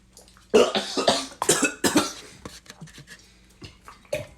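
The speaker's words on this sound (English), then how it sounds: "I took one sip, I coughed." A person coughs repeatedly, a string of harsh, close bursts of varying strength over a few seconds.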